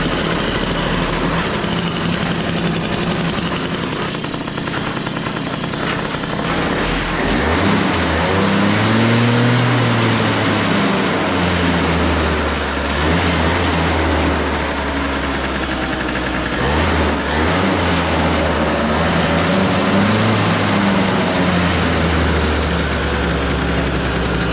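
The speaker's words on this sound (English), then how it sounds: "My idle sounds a little low." A 2008 Yamaha Zuma 50 two-stroke scooter idles loud and close with a low, uneven burble. The tone wavers and dips through the middle stretch.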